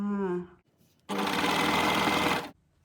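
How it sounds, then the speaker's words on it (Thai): Sewing machine stitching very thick fabric, a close, loud steady whir running for about a second and a half after someone speaks briefly beforehand. "ผ้าหนามากเลยค่ะ เย็บได้อยู่ค่ะ"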